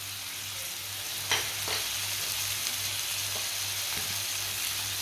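Chopped tomato and green chilies frying in a pan, a steady soft sizzle with a couple of brief stirring scrapes partway through, no voices present.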